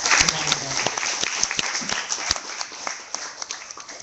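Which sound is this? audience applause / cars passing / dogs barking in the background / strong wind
audience applause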